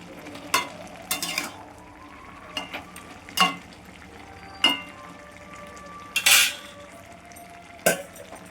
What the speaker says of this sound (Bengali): নাড়া দিয়ে দিই, জল বেরিয়ে গেছে অনেক।